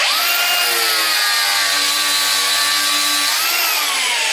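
An angle grinder fitted with a multi-material disc cuts through timber moulding with a loud, continuous high-pitched whine and harsh sawing buzz that holds steady for several seconds, then dips briefly as the load changes.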